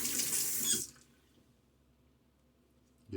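Water runs from a sink tap for a rinse during a shave with a Gillette Aristocrat 16 safety razor, a close, steady splash lasting under a second, then near silence before the flow briefly returns at the end.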